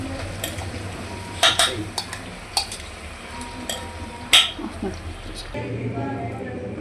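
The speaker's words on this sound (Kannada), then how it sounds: "ಇದೇನು ಮಸಾಲ ಇತ್ತಲ್ವ ಅದನ್ನೆಲ್ಲ ಕುಕ್ಕರ್ಗೆ ಆ್ಯಡ್ ಮಾಡ್ಕೊಳ್ಳೋಣ." A spoon stirs masala into a pressure cooker while ridge gourd palya is cooked, giving scattered metallic clinks and scrapes with a few sharp knocks beneath a low background hum.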